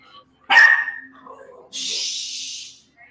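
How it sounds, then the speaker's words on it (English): Puppies give one sharp, loud yelp followed by a longer hissing, breathy whine, close by and indoors in a short burst. "Shh. You crazy puppies."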